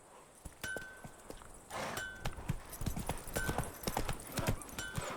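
Horse hooves clip-clop at a steady walking pace in The Witcher 3 game, crisp close hoofbeats with a faint tonal game sound behind them.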